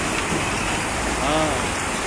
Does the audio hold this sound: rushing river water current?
yes